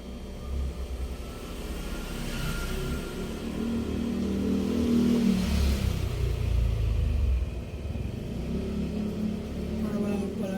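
A motorized tricycle engine runs steadily and close, with a rough low rumble that swells and revs slightly in the middle before settling, continuous throughout with no talk.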